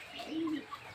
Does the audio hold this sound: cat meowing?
no